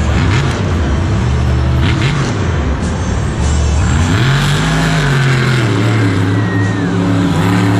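A monster truck engine roars and revs hard during a Monster Jam freestyle run at MetLife Stadium, loud and close, with rising and falling pitch sweeps.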